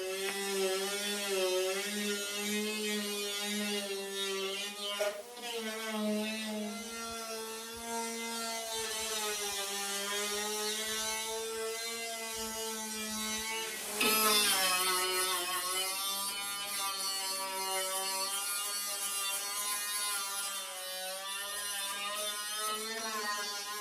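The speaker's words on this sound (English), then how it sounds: "We'll be using this rotary grinder to get at the tough spots." A rotary grinder works the body of a 1972 VW Super Beetle, giving a steady, close buzzing whine that runs the whole time, with its pitch shifting briefly around the middle as the load changes. No one talks.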